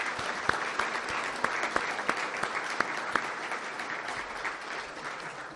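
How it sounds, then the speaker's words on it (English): An audience at the 2025 Boyertown Area Progress Dinner, a community event, applauds performers with steady, sustained clapping of moderate loudness and a few sharper claps standing out, the sound tapering slightly at the end. "If you would please give a round of applause"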